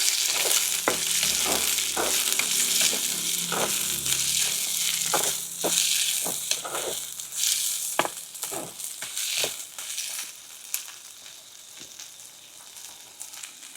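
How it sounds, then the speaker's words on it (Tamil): Chopped shallots and green chilies sizzling in a hot pan while a utensil stirs them, a strong frying hiss with repeated sharp scraping clicks that gradually quiets. "அதுவும் பச்சை மிளகாவையும் சேர்த்து போட்டுக்கொள்ளுவோம். நல்லா கிளறி விடுவோம்."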